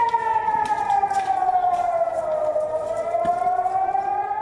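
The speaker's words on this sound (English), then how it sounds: "How do you sleep, work, study or shower when you are kept on your toes by blaring sirens?" An air raid siren in Israel wails steadily, its pitch slowly sliding down and then rising again, a loud, sustained rising-and-falling tone with no talking.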